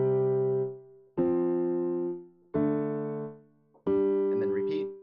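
Piano power chords climbing up the scale, four struck chords in a row, each ringing out and decaying before the next one lands higher, with the final chord joined by a voice.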